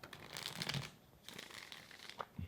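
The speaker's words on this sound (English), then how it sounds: "One more shuffle, guys." Soft riffling and flicking of tarot cards being shuffled close by, in a couple of quick bursts with brief pauses, no talking.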